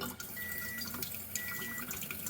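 Thin stream of water running from a water ionizer into a glass jar, a steady quiet trickle with faint dripping and small splashy accents, no talk.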